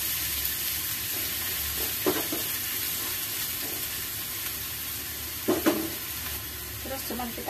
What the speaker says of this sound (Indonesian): sekarang kita goreng jahenya dulu